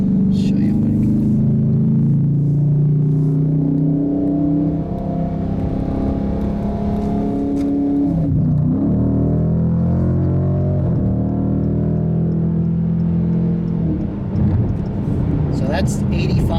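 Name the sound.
2017 Dodge Challenger R/T Hemi accelerating, shifting manually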